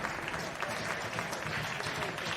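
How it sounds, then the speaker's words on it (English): Football crowd at a Barry Town United home match clapping as a substituted player leaves the field, steady sustained applause from the stands with commentary talk over it. "gets a round of applause from the Barry faithful"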